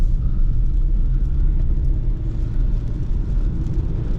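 A BMW driving along the road on a Saturday trip, heard from inside as a loud, steady low rumble and whir of engine and tyres that holds constant throughout, with no talking.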